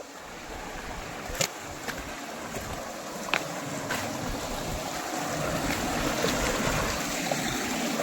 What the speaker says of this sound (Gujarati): ખાલી પાણીનો અવાજ તમે સાંભળો.